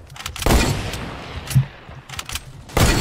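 Video game gunfire during a live stream: a few sharp bursts of shots, one at the start, one in the middle and one near the end, with quieter rattling between them.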